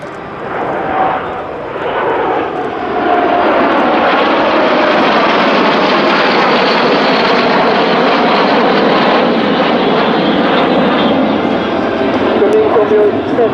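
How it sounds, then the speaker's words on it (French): Breitling Jet Team jets roaring past at the Belgian Air Force Days airshow, a loud broad engine rush swelling and sustained for several seconds, with a commentator's voice beneath the noise. "coming from your right, this is the Breitling Jet Team initiating Apache Road."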